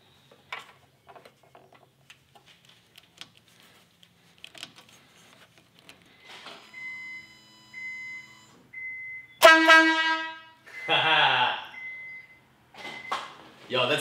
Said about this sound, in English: we can turn the car on, press the horn,